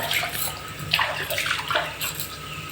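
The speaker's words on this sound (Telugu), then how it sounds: "రోలు కడిగేసి ఎక్కడిదక్కడ నీట్గా తుడిచి పెట్టేస్తే నీట్గా ఉంటుంది" Water splashes and sloshes while a stone grinding mortar is washed, a continuous close, bright wet spatter with small gurgling surges and no speech.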